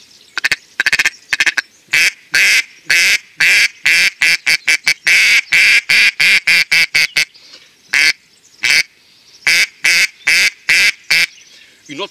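HB acrylic single-reed mallard duck call, reference 613, blown in loud nasal quacks, first in quick bursts, then a rapid descending run and a few spaced final notes, close and alone.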